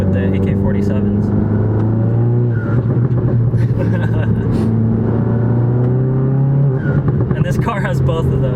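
A 350 hp Volkswagen GTI engine drones loudly and steadily, with a turbo whooshing and fluttering as the revs rise and fall, while people talk over it.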